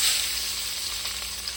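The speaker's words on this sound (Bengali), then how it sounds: "এবার বাকিগুলো আমি ভেজে নেব একটা একটা করে" The remaining eggs fry in hot oil in a pan with a continuous, close crackling sizzle, alone and without any talk.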